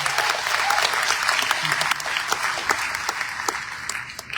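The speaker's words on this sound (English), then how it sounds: "Give him another round of applause if you will" An audience applauds at a South African election results announcement, a dense sustained clapping from a large crowd that stays strong throughout, with a voice faintly audible underneath.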